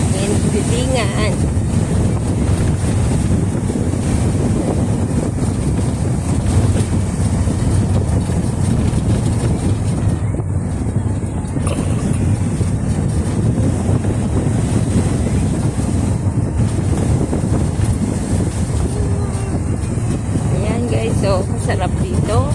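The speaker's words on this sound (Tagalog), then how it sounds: "Mainit pero mahangin. Masarap ang hangin." Strong wind buffets the microphone continuously, roaring steadily over the hum of a moving boat and water.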